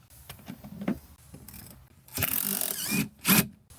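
Ratchet undoing a seat bolt inside a Chevy Tahoe, with soft clicks followed by louder, rapid ratcheting bursts near the end, close and alone.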